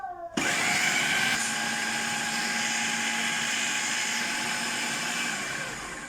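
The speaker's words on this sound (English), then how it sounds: "put our lid back on, and I'm going to grind this again" A kitchen blender switches on and grinds soaked dhal for crispy vadai, a loud, steady high motor whine with a coarse churning texture that runs unbroken to the end and eases slightly at the close.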